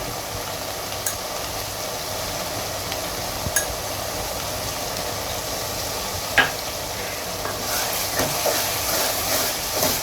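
Green chilli and chilli powder frying in oil for a homemade drumstick fish curry, a steady hissing sizzle with occasional stirring clicks and scrapes against the pan, close and continuous.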